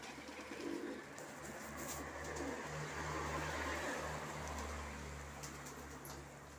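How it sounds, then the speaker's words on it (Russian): Colour-tailed pigeons of Dagestan coo softly and continuously in their loft, a low, murmuring stream of calls under a steady background hum. "Вот сейчас начали они ворковать потихоньку"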